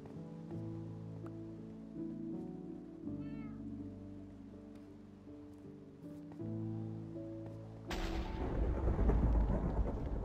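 In a video game, a cat meows several times in a drawn-out, repeated pattern against a soft background, followed by a burst of rain and rumbling thunder near the end.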